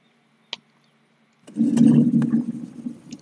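A pull-start outboard boat engine in the fishing video game Fishing Planet on Emerald Lake gives a sharp click, then catches after a pause and settles into a loud, steady low motor drone that carries on alone, slightly tapering.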